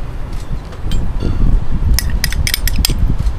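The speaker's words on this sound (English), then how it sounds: "I'm going to add my onions straight to the tomatoes" Chopped onions are tipped into a bowl of tomatoes for salsa, giving a loud, close clatter of utensil and bowl with a series of crisp clinks and scrapes over about three seconds.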